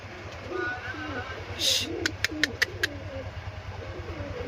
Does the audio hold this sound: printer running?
no